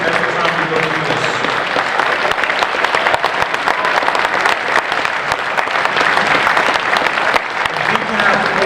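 Loud, sustained audience applause for the 2021 Sachem Hall of Fame inductees, a dense wash of many hands clapping at once without letting up, with a few voices faintly mixed into the crowd.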